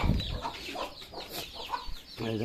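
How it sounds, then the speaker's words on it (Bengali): Several chickens cluck and chatter close by in short, scattered calls, with a brief low rumble at the start. "এই যে দেখুন টাইগার মুরগি দাদিগুলো অনেক বড় হয়ে গেছে"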